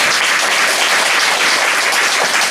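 A church congregation claps together during a Saturday worship sermon, a dense, loud, steady wash of applause that fills the whole moment without a break.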